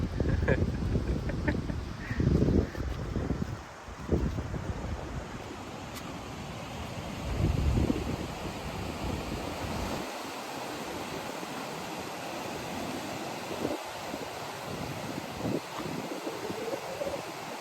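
Sea surf and gusting wind on the long Palande beach shoreline roar in uneven bursts at first, then settle into a softer, steady wash with faint bird calls.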